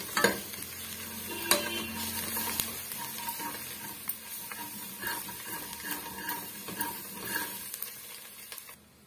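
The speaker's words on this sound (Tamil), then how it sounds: "இப்ப இது நல்லா வந்து கிண்டி விட்டுக்குங்க" Chickpea masala with chili powder cooks in a pan, and a spoon scrapes and stirs it in repeated close strokes over a soft continuous sizzle, with occasional sharper knocks against the metal.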